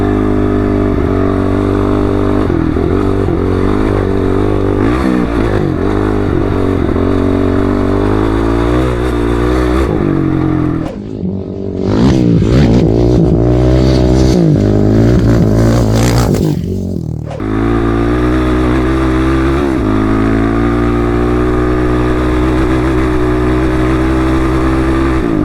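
An off-road motorcycle runs flat out at full throttle in fifth gear on a desert ride in 100-degree heat, its engine a loud, steady, sustained drone that dips briefly and recovers, then holds as it climbs a slight uphill.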